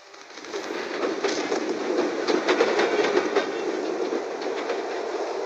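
Subway train rumbling past in the video game Super City, a steady loud clatter of wheels on rails with rhythmic clickety-clack throughout, building in over the first half second and holding alone without speech.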